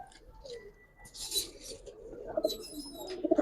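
Giribaz pigeons coo softly, mixed with a few brief high chirps and squeaks, close and quiet over a short stretch.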